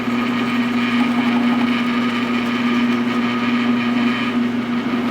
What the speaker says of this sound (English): I've got the laser crosshair on my mark and just start drilling holes